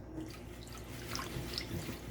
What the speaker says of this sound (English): just go ahead and kind of mix the rice here. The water will start to turn a kind of like a murky white.